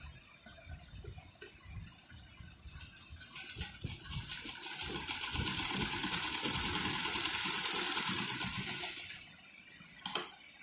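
A sewing machine stitching a double seam along the shoulder of a garment, a rapid mechanical whirring that builds and holds steady in the middle and then stops, followed by a couple of sharp clicks.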